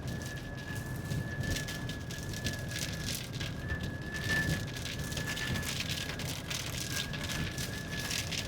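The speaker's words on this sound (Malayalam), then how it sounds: "പിന്നെ മഴ പെയ്ത് തുടങ്ങിട്ടോ." Rain starting to fall during a thunderstorm, heard as a steady, even hiss of falling drops at moderate level with a faint constant whine running through it, and no voices.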